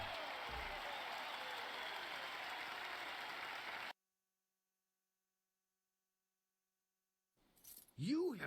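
Crowd applause after a Jade Empire video game victory, a dense broadband roar for about four seconds that cuts to silence, followed by a brief swooping effect.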